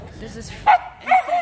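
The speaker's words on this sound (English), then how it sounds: "And that's my dog barking in the airport." A dog in an airport gives two short yipping barks with a whimpering edge, close and loud, while a person talks over it.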